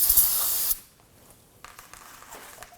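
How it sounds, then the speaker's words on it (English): Aerosol spray solvent hisses in a loud, steady burst onto a Volvo XC90 rear wheel hub, cutting off sharply after under a second, followed by quiet handling noises. "we're going to take some spray solvent, give it a quick"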